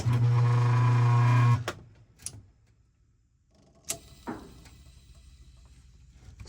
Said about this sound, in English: Now when you turn the motor, it turns on nice and strong.